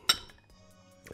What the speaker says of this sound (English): have a big glass of water in the afternoon. And I will add a spoonful of psyllium husk.